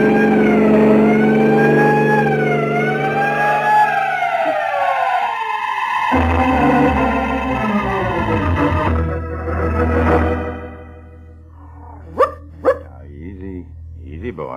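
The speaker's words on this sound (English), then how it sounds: "Sound your siren." Old-time radio drama sound effect of a wailing vehicle siren rising and falling, loud and close. The siren fades out into talk and dog barks, and people speak over and after it.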